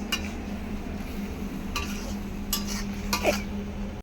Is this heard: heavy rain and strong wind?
no